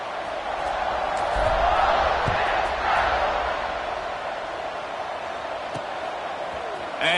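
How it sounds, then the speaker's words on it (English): A football stadium crowd cheers during a kickoff, a broad steady roar rising and swelling before easing slightly, with scattered shouts in the mix. "this crowd is feeling themselves after that last drive"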